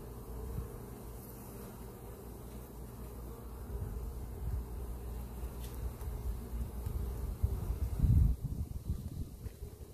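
Honey bees hum around an open beehive during a checkup, a soft continuous buzzing drone close by that grows slightly louder toward the end, with light rustling and no talk.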